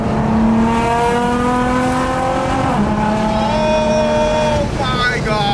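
A widebody Nissan GT-R drives from inside the cabin, its engine note rising through the gears with a clear shift drop midway, loud and continuous.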